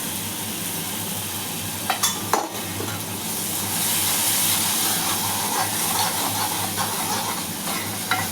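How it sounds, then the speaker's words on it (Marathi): Masala cooking in a pan with a little water added sizzles steadily while a spoon scrapes and knocks against the pan in irregular strokes, close and fairly loud. "थोडं पाणी टाकायचं."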